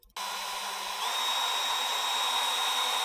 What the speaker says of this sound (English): Time to do a little drilling.